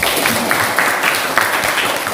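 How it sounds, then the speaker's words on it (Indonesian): A classroom full of people claps steadily, a dense patter of applause at moderate volume that continues throughout. "Tepuk tangan."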